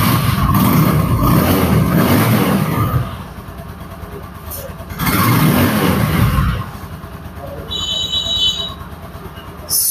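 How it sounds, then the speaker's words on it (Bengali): A TVS Apache RTR 160 2V motorcycle in black with ABS, in showroom condition with about 500 km on it, runs with a loud steady engine drone that drops lower for a couple of seconds, surges back up and then settles to a softer idle. "দেখো বাইকটির সাউন্ড"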